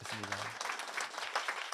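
A church congregation at a Sunday service in Darmstadt's central church breaks into applause; a brief voice opens, then a steady patter of many hands continues at moderate level.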